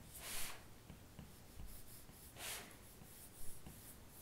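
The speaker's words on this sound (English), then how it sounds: "as I sketch, for example, this headlight in with my stencil here" A stylus scratches and strokes across an iPad Pro screen while a car headlight is sketched with a stencil, giving soft, faint, repeated drawing strokes with no talk.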